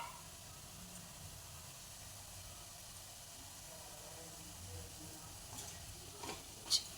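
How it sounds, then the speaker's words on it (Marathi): Urad dal fritters (bhaje) deep-frying in oil and being turned over: a faint, even bubbling hiss, quiet and steady, with a few soft clinks near the end and no talk. "असे खालचं अंगवरती करायचं आणि छान तळून घ्यायचं."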